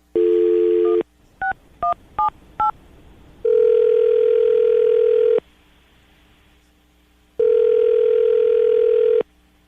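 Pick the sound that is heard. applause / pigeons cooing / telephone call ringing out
telephone call ringing out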